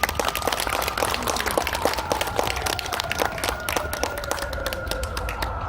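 An outdoor audience claps together at a founding ceremony and memorial in Tapgol Park, Seoul, a sustained rattle of many hands at moderate level, with a faint steady tone running underneath.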